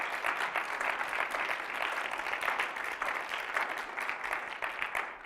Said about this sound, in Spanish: Si tú lo crees, daré un fuerte aplauso a Dios.